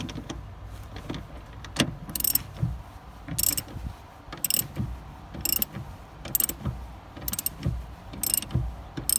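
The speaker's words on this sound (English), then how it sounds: "it's a 13mm socket on these three. Loosening those off." Ratchet on a 13mm socket loosening suspension bolts on a Land Rover Freelander 2 during rear shock absorber replacement, with repeated close clicking ratchet strokes in an uneven rhythm over low handling noise.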